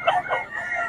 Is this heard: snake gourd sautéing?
no